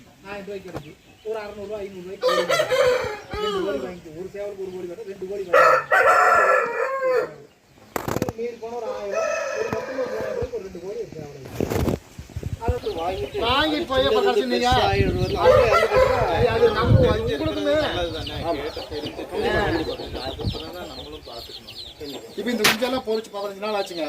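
A country rooster crows and clucks in bursts between louder stretches of talk, with brief flapping of wings amid the chatter.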